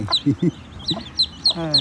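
Native Thai hens cluck in short bursts while their chicks peep high and thin, close by, with a soft voice briefly under the calls.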